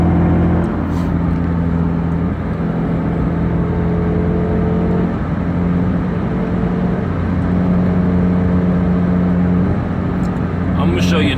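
A Mazda Miata MX-5 engine pulls at half throttle up a steep hill, a loud, steady droning hum heard from inside the car, with someone talking over it.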